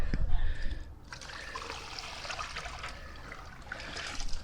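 Water trickles and splashes steadily into a bucket on a farm in frigid winter, a continuous running pour with a brief louder burst at the start.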